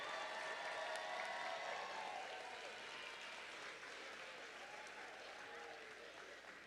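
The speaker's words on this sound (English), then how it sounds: "let's have an applause for all of the graduates of 2026" Applause from the audience at a nursing pinning ceremony for the graduating class, a broad, distant wash of clapping with light crowd murmur and faint voices beneath it.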